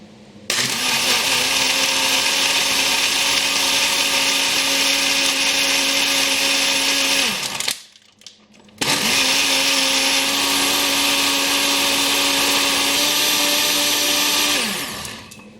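A blender whirring up sweet rose lassi yoghurt drink until frothy: a loud, steady motor roar running about seven seconds, a short pause, then a second equally long run that winds down at the end.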